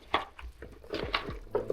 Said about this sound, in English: So now all we need to do is mix this